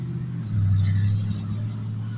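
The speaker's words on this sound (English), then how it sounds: "Let the truck pass." A truck rumbles past close by, a low heavy drone swelling to its loudest midway and then easing off, with no talk over it.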